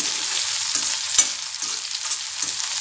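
Onions and curry leaves fry loudly in a pan with a dense, bright crackling sizzle, punctuated by a few short stirring knocks and scrapes, no voices present.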